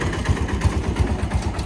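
A tractor engine chugs close by in a steady low pulsing rhythm, loud and continuous, with no talk over it.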